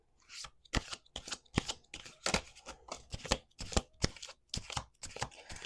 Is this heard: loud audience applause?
no